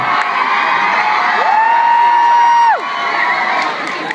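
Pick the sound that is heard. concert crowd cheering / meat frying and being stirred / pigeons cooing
concert crowd cheering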